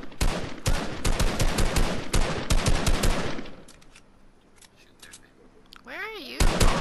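Rapid video-game gunfire rattles in close, loud bursts for about three seconds, then drops to quieter scattered sounds before a short burst returns at the end.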